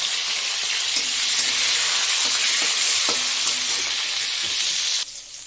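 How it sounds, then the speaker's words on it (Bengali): Bitter gourd slices frying in hot oil for shukto, a close, steady crackling sizzle with a few faint utensil taps, cutting off sharply near the end. "এই যে উচ্ছেটা আমি ভেজে নিচ্ছি।"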